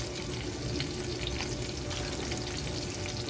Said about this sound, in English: I'm going to go ahead and add the butter in the pan at this point and some garlic